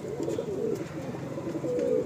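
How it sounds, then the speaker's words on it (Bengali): Close, continuous cooing from a top-quality male pigeon in a home loft: soft, low, burbling phrases rise and fall in an unbroken run, with no one speaking. "টপ কোয়ালিটির একটা নর পায়রা।"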